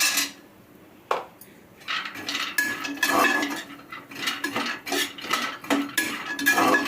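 Spoon scraping and clinking against a pan as almonds are stirred while roasting, with irregular metallic scrapes that build from a lone clink into a busy run of stirring.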